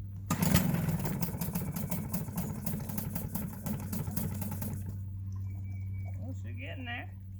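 A Hangkai outboard motor on a boat is cranked and starts up, running with a loud, steady mid-pitched idle that drops away after about five seconds, leaving a quieter low hum with faint distant sounds.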